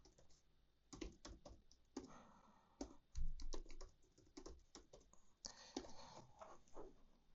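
Typing a password on a computer keyboard: irregular, close, fairly quiet key clicks in short clusters with brief pauses between them.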